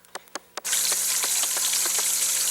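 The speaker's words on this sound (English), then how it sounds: "I think Mr. Flash has made the water run." Tap water gushes steadily after a few sharp clicks, as if a faucet were switched on and left running, close and fairly loud with no voices.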